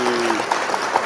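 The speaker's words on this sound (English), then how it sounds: "Clapping!" Brief burst of clapping from a small group, a few distinct claps at a fairly steady rhythm over a second, heard over a faint tonal hum.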